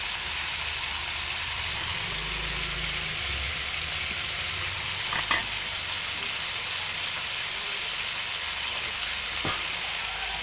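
Chicken bistek fries in a pan, a steady, fairly faint sizzle running throughout with a low rumble beneath and a couple of brief clicks, no talking.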